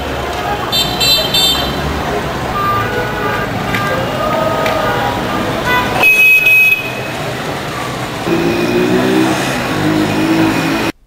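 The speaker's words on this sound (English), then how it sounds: "Special buses carry loads of customers from surrounding areas." Busy street traffic around the Kashgar Sunday Market, with vehicles running and revving, a horn toot or two, and a steady crowd murmur of voices throughout, all at a loud, continuous level.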